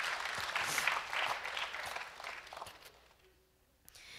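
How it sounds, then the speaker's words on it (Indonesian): Church congregation applauding together, a dense burst of clapping that fills the room for about three seconds before fading to near silence. "Beri tepuk tangan bagi semua saudara."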